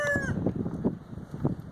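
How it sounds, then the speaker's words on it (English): Chickens in a coop, with a rooster's crow trailing off at the start followed by soft, close clucking and scratching. "That rooster's talking."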